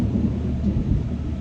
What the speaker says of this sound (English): We've had a major thunderstorm all day.